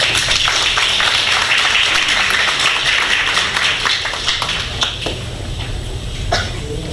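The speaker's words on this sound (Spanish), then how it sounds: "Le damos a ellos la bienvenida con un fuerte aplauso" Applause from an audience at an education event's commentator panel, a moderately loud patter of clapping with scattered sharper claps and some room clatter, thinning gradually toward the end.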